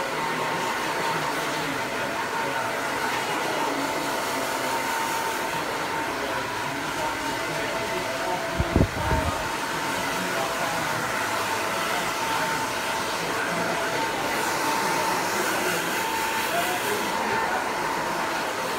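A hot hair dryer blows at a hairdressing session, a loud, steady whooshing roar that runs continuously, with a brief knock or bump partway through.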